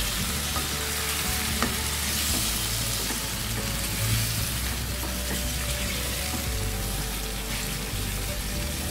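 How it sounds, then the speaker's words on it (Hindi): Yogurt chicken sizzles loudly in a pot while a spoon stirs it, a dense, continuous frying hiss with a few faint clinks, close by and with no voices. "अब चम्मच के साथ मैं इसको मिक्स कर लूँगी"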